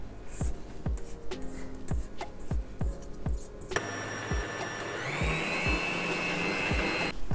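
Electric mixer whipping a two-ingredient cream in a bowl, a steady motor whir that rises in pitch partway through, with a spatula scraping the bowl sides in repeated knocks at first; no talking.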